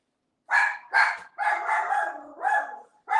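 Indoor dog barking at someone at the door, about six loud, close barks in irregular bursts, some short and some drawn out, with no talking.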